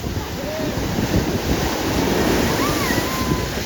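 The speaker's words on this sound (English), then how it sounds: "By the time we reached the beach, the wind had picked up. We could see a storm in the distance, the waves were strong" Strong sea waves surge and break continuously on a beach in Greece as a storm approaches, with gusting wind buffeting the microphone; a loud, steady roar with no pauses throughout.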